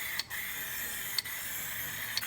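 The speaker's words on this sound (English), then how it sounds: "It's hard to get these perfectly even with a spray can" A spray can coats the recessed barrels of a car wheel with paint in a close, steady hiss, broken by a few brief pauses about a second apart.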